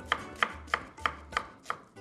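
A knife chops onions on a board in a kitchen, six crisp, evenly spaced cuts at close range with no talking.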